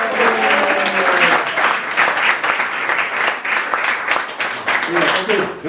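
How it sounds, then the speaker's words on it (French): Sustained applause from an audience at an evening gathering, dense and steady for several seconds, with some voices and cheers mixed in the crowd noise. "je pense que ça mérite un chaleureux applaudissement."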